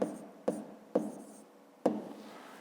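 A pen or pencil writing an answer on paper during a fifth-grade maths exercise, heard as four separate close, crisp strokes or taps spaced about half a second to a second apart in a quiet room.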